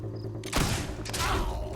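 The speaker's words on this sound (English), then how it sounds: "Who else is shooting at me?" Gunfire in the Fable II video game bursts in as a dense, loud rattle of overlapping shots over steady game music, continuing to the end without a pause.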